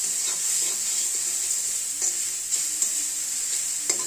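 Garlic frying in a pan for bottle gourd raita, a constant close sizzle punctuated by a few sharp spoon clicks and stirring scrapes.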